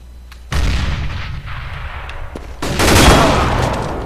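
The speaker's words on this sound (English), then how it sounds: "Grenade out." Thrown grenade in CS:GO exploding with a loud, close boom that swells and rumbles away, following an earlier burst of gunfire and game noise.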